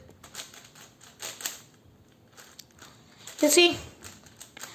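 Clicky, clacking turns of a loose, lubed QiYi QiFan S 6x6 speed cube, a few quick rustling bursts with one louder clatter near the end, under brief talk.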